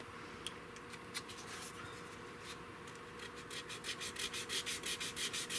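A metal file scrapes across a wooden gun stock in short strokes, sparse at first, then settling into a quicker, steady back-and-forth rasp.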